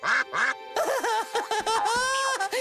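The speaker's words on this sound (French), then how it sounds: "Qu'est-ce qui a fait ça? Un canard?" A cartoon duck quacks repeatedly in quick, loud, nasal bursts close up, in an animated children's show.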